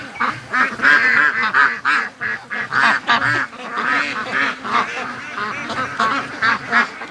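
A crowd of farm ducks and geese keeps up a busy, continuous racket of quacks and honks, near and loud, calls overlapping in rapid succession without pause and with no one speaking.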